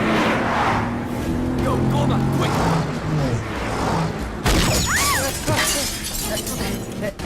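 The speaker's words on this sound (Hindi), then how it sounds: "टायर नहीं फूटा, पीछे का कांच फूट गया।" Rear window glass of a new car shattering during a chase scene in an action film, a sharp burst partway through, set among engine noise, effects and a rising musical swell.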